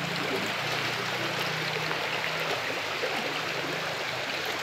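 Floodwater current flowing through a stream channel near a small footbridge during a flood, a steady continuous rushing and gurgling wash without speech.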